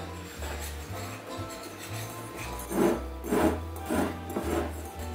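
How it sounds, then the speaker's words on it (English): A whisk scrapes through dry flour, baking powder and salt in a bowl, a soft rasping rub with a few rhythmic stirring strokes growing louder toward the end. "And then I'm going to whisk that up."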